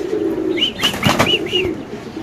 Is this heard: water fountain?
no